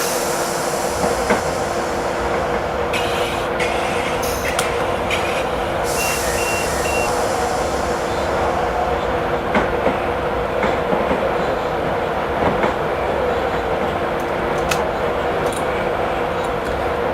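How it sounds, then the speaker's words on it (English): A video game train in Train Simulator 2017 rumbles steadily along with a constant mechanical drone, faint wheel clatter and occasional high squeals and beeps, loud and continuous throughout. "now I have to practice on how to stop this train"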